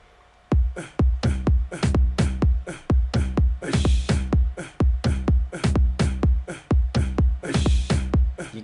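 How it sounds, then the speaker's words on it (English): A punchy gqom electronic kick drum pattern repeats in a syncopated, broken rhythm, loud and dry, with bright clap-like hits layered in places. "So far, just the kick, it sounds like this."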